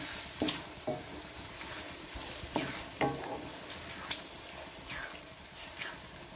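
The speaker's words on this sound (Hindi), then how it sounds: "अब हम इसको अच्छी तरह से भून लेंगे" Potatoes with green chillies and spices being stir-fried in a pan, a steady sizzle broken by repeated scraping stirs of a spoon at irregular intervals, close and clear with no talk.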